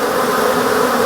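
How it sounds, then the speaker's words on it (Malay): Honey bees swarming in a hive built inside a kitchen cabinet make a dense, continuous buzzing drone, loud and close, steady throughout without pauses. "Nampak ni, lebah banyak."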